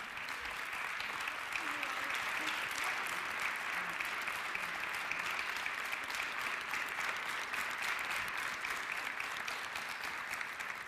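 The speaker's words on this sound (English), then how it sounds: "Once again, your applause, ladies and gentlemen," An audience applauds at the Eurovision Song Contest allocation draw in Lisbon, a steady wash of many hands clapping that carries on evenly for the whole stretch with no pauses.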